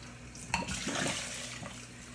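Cool water rinses a glass bong in a sink, a steady splashing gush with a brief sharper spatter near the start, running evenly throughout.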